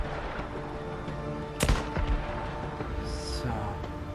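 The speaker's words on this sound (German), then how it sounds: "die werden die Schüsse gehört haben" Gunfire rings out in the video game Days Gone, one sharp loud blast followed by a couple of smaller reports and then a brief high tone, all over a steady background rumble and faint game ambience.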